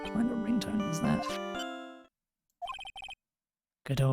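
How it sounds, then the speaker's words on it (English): A cell phone ringtone from Phoenix Wright: Ace Attorney plays a bright, tonal melodic jingle, then breaks into short beeping bursts separated by silence, clear and upfront. "What kind of ringtone is that?"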